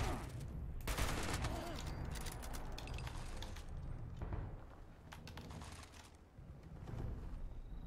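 In the video game Fallout 76, bursts of rapid gunfire rattle and crack amid mechanical clicks, fairly dense and continuous over several seconds.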